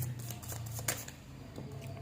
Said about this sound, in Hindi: ज़रा कार्ड्स को अच्छे से शफल कर लूँ